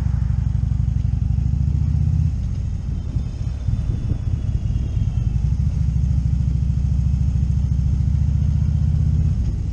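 A car crosses an old Virginia stone bridge nearly 200 years old, a steady loud low engine rumble with rough clattering tire noise over the stones in the middle stretch, close and continuous, with no talk.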